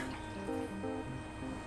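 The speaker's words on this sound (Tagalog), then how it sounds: "Para may sabaw at mapalambot itong mabuti, sabawan ng 9 na tasa ng tubig" Nine cups of water poured from a container into a cooking pot of soaked beans, a steady close splashing stream that carries on without a break from start to finish.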